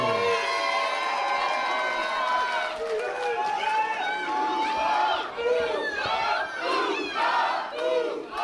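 A wrestling crowd at a live 2024 event cheers and shouts loudly for the wrestler Big Boofa, Desmond Cole, a dense, steady roar of many voices with whistles and rising yells.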